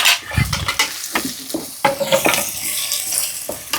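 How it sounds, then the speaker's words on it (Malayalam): Fenugreek seeds, chopped ginger and garlic, curry leaves and green chillies frying in hot oil for a Kerala fish curry: close, crackling sizzle with several sharp pops and utensil scrapes. "അതിലേക്ക് ഉലുവ ഒന്ന് പൊട്ടിയിട്ടാ. അതേ ഇഞ്ചി വെളുത്തുള്ളി പൊടിയായിട്ട് അരിഞ്ഞത്, വേപ്പല, പച്ചമുളക് ഇതൊക്കെ ഇട്ടു."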